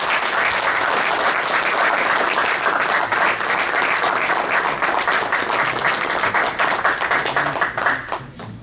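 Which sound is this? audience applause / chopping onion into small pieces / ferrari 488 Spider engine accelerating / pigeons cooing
audience applause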